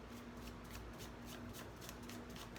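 Tarot cards being shuffled by hand, a soft, steady riffling rustle that runs quietly and continuously with no talking.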